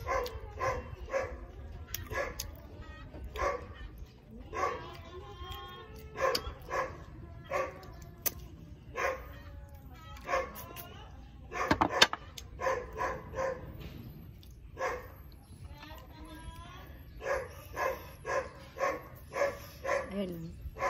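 A dog barks and yips in short bursts close by, begging for food at an outdoor meal, mixed with whimpering, while people talk over it.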